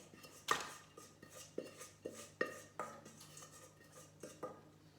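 Flapjack mixture tipped from a pan and scraped out with a utensil, giving a series of close, sharp clinks and scrapes of metal against the pan at an irregular rhythm in a quiet kitchen.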